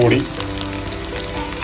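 Chilli powder and coriander powder frying in hot oil with pork for a Kerala-style pork roast, a steady close sizzle running throughout with a brief louder burst at the start.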